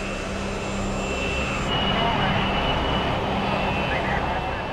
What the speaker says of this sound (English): We can accelerate up to virtually to takeoff speed